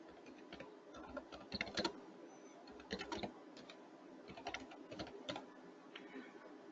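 Close typing on a computer keyboard, irregular bursts of clicking keystrokes with short pauses, fairly quiet and heard alone.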